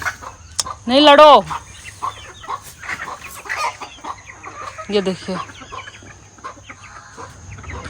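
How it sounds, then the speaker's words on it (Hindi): Chickens and a black rooster in a farmyard with ducks nearby cluck and squawk in short bursts, one loud rising call near the start and another later, while a person talks over them. "ये मुर्गा बहुत बदमाशी करता है, ये काला वाला।"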